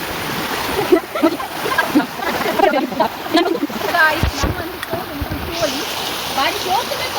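Water rushes continuously through a small roadside channel that fills only in the rainy season, making a steady splashing flow, while people talk nearby throughout.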